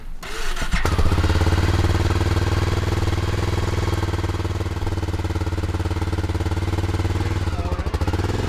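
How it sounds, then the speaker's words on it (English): A motorcycle engine runs near and loud with a harsh, fast rattle from a loose exhaust, the clattering pulse continuous and rough over a steady low drone after a brief start at the beginning. "other than the horrendous rattle in the exhaust"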